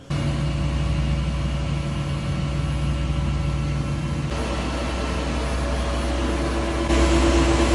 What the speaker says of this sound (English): And that is the second jet engine starting now as well.